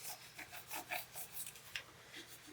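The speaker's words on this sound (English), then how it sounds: "Now I'm going to bring in my scraper, only staying on this transfer tape because I don't want to scuff up my paint." A plastic scraper rubs back and forth over transfer tape on a painted Halloween home decor piece, making soft, faint, rhythmic scratchy strokes at close range.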